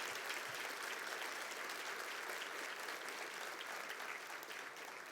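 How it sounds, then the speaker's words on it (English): Dense, even applause from the crowd at the MANDI Awards 2016 ceremony, a continuous roar of clapping that stays constant throughout. "Let's give them all a round of applause"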